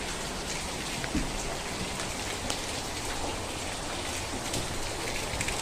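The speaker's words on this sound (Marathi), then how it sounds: "आणि इथं पाणी पडतंय" Steady, dense rainfall patters down continuously, a constant wash of drops on surfaces with no voices.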